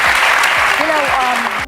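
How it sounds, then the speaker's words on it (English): An audience applauds loudly, a dense clatter of many hands clapping close and continuous, with a voice speaking over it before the sound cuts off abruptly at the end. "Sometimes I honestly wonder what the audience hears before applauding Kamala Harris"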